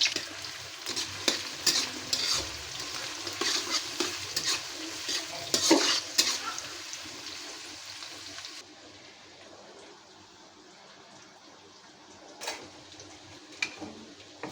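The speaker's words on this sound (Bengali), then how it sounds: "এখানে পেঁয়াজটা বেরেস্তা করে নেব আমার পরিমাণ মতো আমি তেল দিয়ে নিলাম" Onions frying in oil in a pan for a spicy green-chili chicken curry, a steady crackling sizzle with scraping stir strokes for about eight seconds, then quieter, fainter frying with a few sharp clicks.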